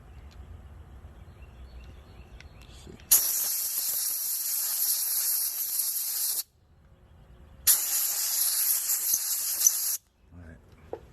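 Carburetor cleaner hisses loudly from an aerosol can into the carburetor of a 2-stroke engine from a weed eater or hedge trimmer, in two long bursts of about three seconds each with a short pause between.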